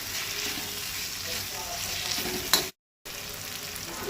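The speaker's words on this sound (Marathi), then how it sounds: "टोमाटूय कांद्या वांगडा बरें तळसून घेवपाक जाय।" Tomatoes, onions and brinjal fry in a pan for a Goan jackfruit-seed dish, giving a steady close sizzle with stirring scrapes and a brief gap of silence near the end.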